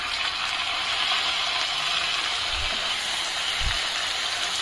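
Tomatoes drop into a pan of fried ginger and garlic, raising a steady loud sizzle and hiss close up, with a couple of soft low thumps as they land.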